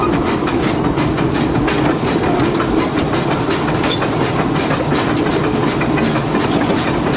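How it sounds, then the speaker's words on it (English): Disneyland Railroad locomotive number 3, built in 1894 and recently rebuilt, rolls close by with a loud, steady rumble and a continuous rhythmic clickety-clack of the rail cars, unbroken for the whole stretch. "that's locomotive number 3. Just rebuilt over this year. It's our oldest locomotive."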